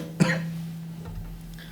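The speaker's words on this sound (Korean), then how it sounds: "기침이 나서" A single short cough near the start, close and fairly loud, followed by quiet room tone.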